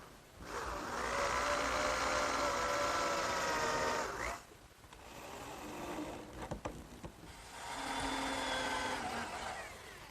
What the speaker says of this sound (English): I'm just going to put 4 screws down each edge.